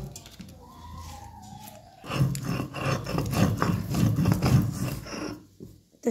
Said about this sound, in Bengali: আমি এখানে বেটে নিচ্ছি সর্ষে, জিরে আর শুকনো লঙ্কা।